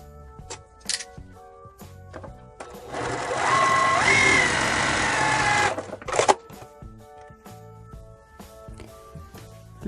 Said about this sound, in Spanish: ahora simplemente vamos a ir a la máquina de coser y vamos a coser